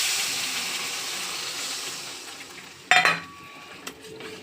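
Water poured into a pan of fried spices and oil for a fish curry gives a loud hiss of steam that fades steadily, followed by a sharp clatter of utensil on pan and a brief later knock.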